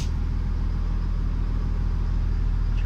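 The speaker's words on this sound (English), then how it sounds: "always happy when I hear that engine purring." A school bus engine idles nearby, a loud steady low rumble with an even, throbbing rhythm and nothing else over it.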